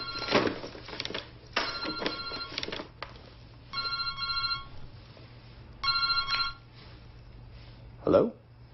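A cell phone rings in repeated electronic bursts separated by short pauses, with a few faint background clicks and a brief sharp sound at the end.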